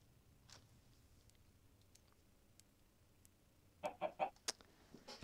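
Several short, loud chicken clucks from a Minecraft chicken come in a quick burst near the end, after a quiet stretch with faint game ambience.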